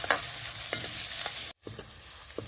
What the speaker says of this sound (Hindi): ये तो हम डाल दिए प्याज, थोड़ा इसको हम चलाते हुए भून लेते हैं